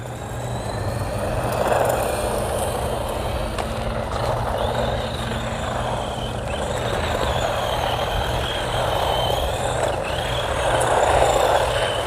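A Polar Lights RC truck bought from Temu runs at full throttle on a street, giving a steady, continuous electric motor whine with gear noise that holds level and close for the whole stretch.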